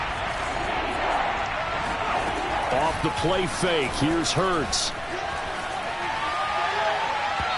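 A steady stadium crowd roars through an online franchise football video game between the Eagles and the Panthers, with a play-by-play commentator talking over it and a few sharp game thumps in the middle.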